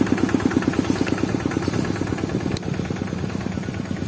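A Kubota 8 hp engine drives a water pump with a long flexible shaft, idling lightly with a steady, rapid thudding pulse, close and even throughout.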